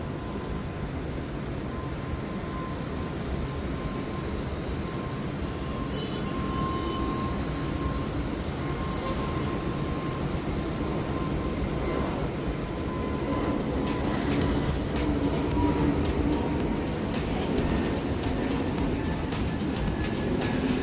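An Avianca airliner taking off from Guayaquil airport, heard from the Business class cabin: a steady, loud engine roar fills the whole stretch and swells toward the end as the jet accelerates, with no talking.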